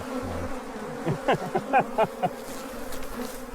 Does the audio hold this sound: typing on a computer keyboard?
no